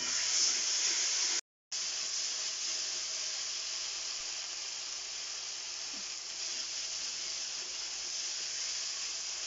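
Water splashed into a hot frying pan of Bengali-style masala sets off a loud, steady sizzling hiss that runs the whole time, broken once by a brief gap near the start.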